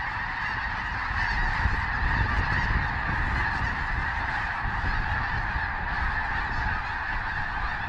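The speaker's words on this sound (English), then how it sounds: "there's several thousand snow geese on it. It's taking off" Several thousand snow geese on an Alberta lake honk in a massive, unbroken chorus, a dense and loud wall of overlapping calls that holds steady throughout, with low wind rumble beneath.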